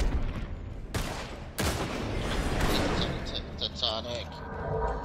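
Rapid video game gunfire from a Devos weapon in an online match, sustained loud bursts of shots with sharp cracks at intervals, with voices talking over the shooting.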